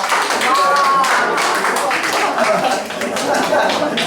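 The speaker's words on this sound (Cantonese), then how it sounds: "咁啊真係我哋熱烈嘅掌聲歡迎佢。" An audience at a church tea gathering claps warmly to welcome a guest, giving a dense, steady patter of applause for several seconds with a few light chuckles mixed in.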